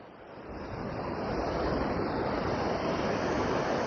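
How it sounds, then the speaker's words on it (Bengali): Ocean waves break on Puri beach in the early morning with people in the water, making a continuous near, loud roaring wash that swells during the first second and then holds steady, with no voices. "সমুদ্রের গর্জন একটু খেয়াল করো, ওরে বাবা, সমুদ্র কিভাবে ডাকছে!"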